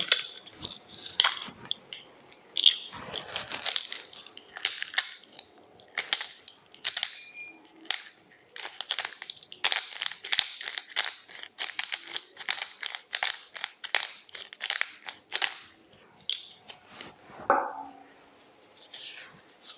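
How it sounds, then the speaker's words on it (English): Coriander root, chili and garlic are pounded together in a stone mortar with black pepper, giving a long run of sharp, crunchy thuds and grinding taps. The strikes are close, quick and uneven, with short pauses and no speech. "We crush together in the mortar stone, and black pepper."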